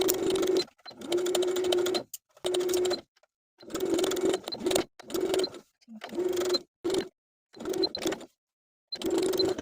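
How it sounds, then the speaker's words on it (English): A sewing machine stitches bias tape along a crease in a close, loud run of bursts. Each burst is a steady motor whir, and brief silences fall between them as the fabric is turned. "we'll sew that bias tape in place along the crease"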